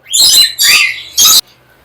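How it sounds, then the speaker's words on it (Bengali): Pet birds in cages at a busy bird market chirp in three loud, close bursts of shrill, bright calls, then fall quiet. "এখানে বাম পাশেরটা হলো ফিমেল পাখি ডান পাশেরটা হলো মেল পাখি"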